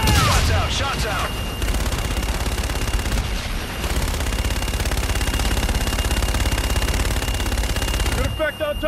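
An artillery fire support strike from Call of Duty Infinite Warfare crashes in as a dense, sustained barrage of rapid loud blasts, almost continuous for several seconds before cutting off, with a voice heard briefly.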